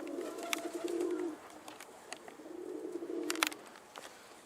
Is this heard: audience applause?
no